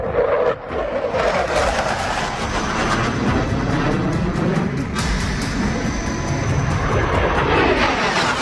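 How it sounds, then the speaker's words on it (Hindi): F-16 or JF-17 fighter jets roar overhead during an Independence Day flypast in Pakistan, a loud, continuous broadband engine roar that swells and shifts in pitch as it passes, with no voices over it. "हर थोड़ी थोड़ी देर पर कभी F-16 तो कभी JF-17 फाइटर जेट्स की गरज"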